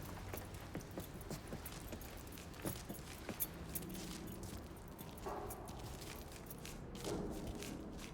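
Keys being picked up and jangling in the video game Mafia 3: a few light metallic clinks and rattles scattered across the clip, close and moderately loud, with some soft thuds and background movement.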